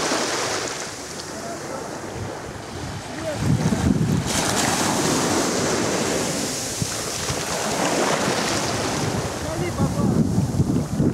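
Surf rolls onto a beach at Dadonghai Bay on Hainan, China, with waves breaking and washing up close and loud, mixed with gusty wind buffeting the microphone and no clear speech.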